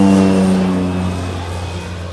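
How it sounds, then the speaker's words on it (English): A propeller airplane drones overhead on a morning at a farm, a steady low engine hum with tonal harmonics that slowly fades as it passes, heard alone without talk. "I'm being kept company by an airplane this morning."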